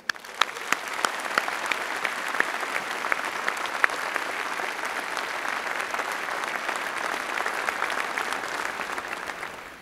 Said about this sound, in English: again with a huge round of applause